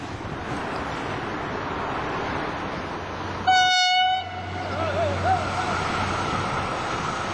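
The 1883 Pouillet steam locomotive, FNM 200.05, arriving by the lake, with a brief loud horn or whistle blast midway over a steady rolling rumble and a voice faintly underneath.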